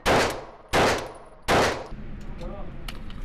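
A Walther PDP pistol fired in a rapid drill, three sharp, loud, close gunshots spaced evenly under a second apart, each with a short ringing decay, followed by quiet range ambience.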